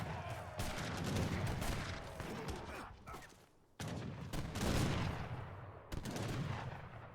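Abba gun units in Age of Empires III fire volleys in dense, crackling bursts, with a short lull partway through before more gunfire resumes, loud and continuous.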